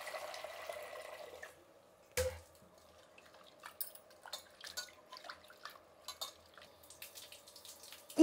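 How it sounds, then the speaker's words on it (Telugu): Water drips and splashes faintly in a kitchen as split lentils are rinsed by hand, with soft irregular trickles and taps close by. "ముందుగా పప్పు కడుక్కునేద్దాం"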